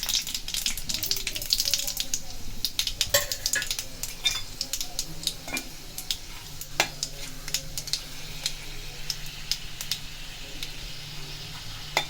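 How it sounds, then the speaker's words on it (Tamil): Mustard seeds, dried red chilli and urad dal sizzle and crackle in hot oil with scattered popping and the scrape of stirring, moderately close and continuous. "கடுகு பொரிஞ்சதும் ஒரு வரமிளகா, இந்த அளவுக்கு உளுத்தம்பருப்பு தாளிக்கிறதுக்கு."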